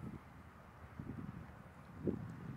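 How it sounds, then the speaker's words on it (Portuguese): Faint wind gusting into an unshielded microphone on a riverside walk toward Mbói Ka'ê beach in Encarnación, low rumbling buffets coming and going in soft bursts. "Hoje está ventando um pouquinho"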